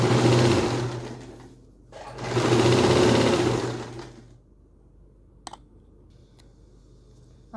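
A sewing machine stitches ladies' pants in two close, whirring bursts of a couple of seconds each, then falls quiet apart from a few light clicks.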